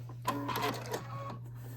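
Sewing machine stitching English paper piecing: a short, fast mechanical whir and clatter over a constant electrical hum, easing off into quieter running.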